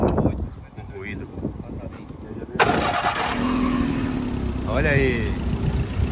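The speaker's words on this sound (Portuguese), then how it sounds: "O amigo vai dar partida aqui no motor para a gente escutar junto o ruído." A used car's engine cranks and catches at a used car fair in Caruaru, Brazil, then settles into a steady idle while someone speaks briefly nearby.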